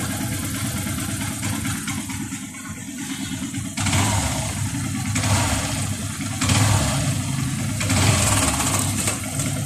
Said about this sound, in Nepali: पुरै ट्र्याक्टर जस्तो आवाज छ